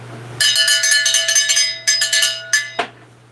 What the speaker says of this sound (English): That's the cowbell. That gets rung at 200 thumbs up.